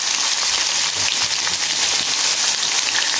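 Chopped garlic frying in hot oil with cumin seeds gives a steady, close, crackling sizzle that holds evenly throughout, with no voices over it.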